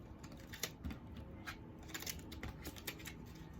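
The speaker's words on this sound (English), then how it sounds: "the sound of this shuffling is just so satisfying" Soft, rapid riffling and flicking of tarot cards being shuffled close up, a stream of light papery taps and slaps with no talking.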